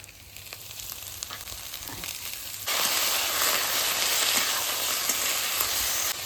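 A spice paste of ground poppy seed and mustard sautés in a pan, a soft hiss that jumps abruptly to a louder, dense sizzle partway through and stays steady, with no one talking.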